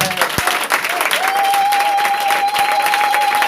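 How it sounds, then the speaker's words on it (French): A church congregation claps loudly together, acclaiming the Lord during a service. Dense, steady applause fills the whole stretch, with a sustained keyboard note held underneath. "Acclame très fort le Seigneur."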